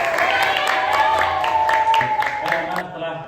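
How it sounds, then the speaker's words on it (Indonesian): Classroom applause for students at an elementary school after their presentations, a dense burst of clapping from the group that fills the room and fades out near the end. "Tepuk tangan untuk kita semuanya."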